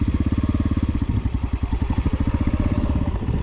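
An X-Pro Storm 150 DLX dual sport motorcycle pulls away in first gear with a loud, close, low single-cylinder putter that runs in a rapid even pulse and rises slightly as it moves off.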